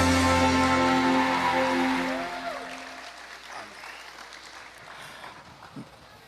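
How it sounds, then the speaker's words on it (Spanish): A church congregation claps, first over the tail of loud sustained music that fades away within a few seconds. Scattered, quieter clapping then continues on its own, with a louder clap or two near the end. "Recibamos con un fuerte aplauso la palabra de Dios"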